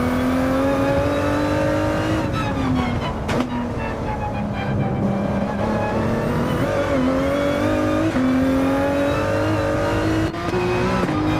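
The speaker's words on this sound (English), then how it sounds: "could just listen to the beautiful sounds of this vehicle here as he darts towards the final straight" A race car engine in Gran Turismo 7 onboard footage at the Nurburgring, screaming steadily at high revs with brief dips at gear shifts, loud and continuous throughout.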